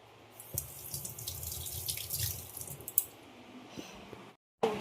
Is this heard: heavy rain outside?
no